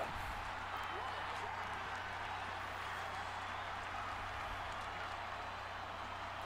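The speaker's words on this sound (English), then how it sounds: "Look at the crowd going crazy." An AFL stadium crowd cheering and applauding after a great mark, a steady distant roar with clapping and whistles that stays even in level throughout.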